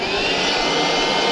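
A Sea-Pro T3S pump inflates an Onega 280 inflatable boat, giving off a loud, steady, unbroken whirring roar from start to finish with no voices.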